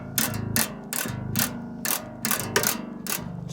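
A guitar tuning peg being wound to tighten a new string, making a series of close, sharp ratcheting clicks in uneven bursts over a steady mechanical whir.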